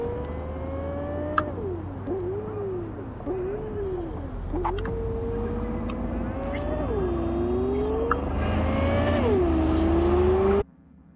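A car engine in Cyberpunk 2077 with an immersive driving mod revs and shifts repeatedly, pitch climbing and dropping between gears, loud and steady throughout before cutting off abruptly at the end; no speech.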